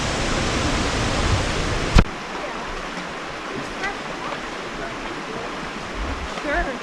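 Waterfall near Seymour Arm roaring continuously at moderate distance, a broad steady rush with a sharp knock early on and faint voices underneath.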